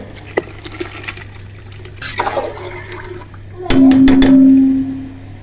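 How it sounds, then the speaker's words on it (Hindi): Water splashes and gushes loudly as rice is poured into a pot of boiling water, with light clinks and scattered kitchen sounds beforehand. "पानी को बॉयल आना शुरू हो गया। अब हम इसमें चावल शामिल करेंगे।"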